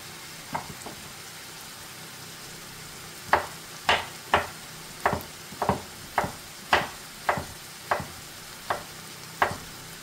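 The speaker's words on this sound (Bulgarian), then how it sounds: "трябва да си разбърквам и кромида" Onions for a Balkan moussaka fry in a pan and are stirred now and then. Around a dozen distinct scraping strokes fall in an uneven rhythm over a quiet, steady sizzle, close and clear with no voices.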